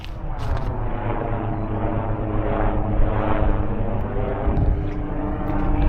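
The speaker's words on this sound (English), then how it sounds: "As a helicopter flies overhead." Loud, steady mechanical rumble of a helicopter passing close overhead at a former WW2 airfield, RAF Ludham in Norfolk, with a throbbing rotor texture that stays strong throughout.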